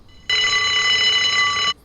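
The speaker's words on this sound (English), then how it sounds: "Is that an alarm? Probably somebody's alarm clock." A steady electronic alarm clock rings in the video game Unheard, one bright multi-tone buzz lasting about a second and a half before cutting off abruptly, loud and alone.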